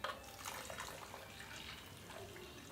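Water pours into a glass for amla juice in a short, steady, faint trickle from start to finish.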